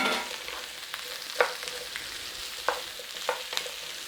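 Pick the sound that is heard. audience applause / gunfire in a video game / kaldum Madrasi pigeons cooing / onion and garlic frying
onion and garlic frying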